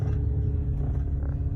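Cars moving along a city street in Canada, a steady low traffic rumble with engine drone throughout, fairly close and continuous, no voices.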